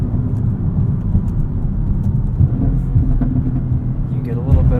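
A 2016 Audi S7 in dynamic mode rumbles low and steady from inside the cabin as its engine overruns, with faint crackles on lift-off under ongoing talk.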